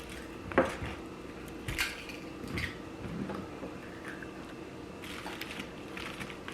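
A knife slicing food on a cutting board for an egg roll in a bowl, giving a few sparse, quiet clicks and taps against the board, spaced irregularly over a faint background.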